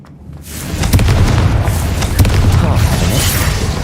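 A Confringo fire spell explodes in Hogwarts Legacy, a loud booming blast that swells in and rumbles on for a few seconds.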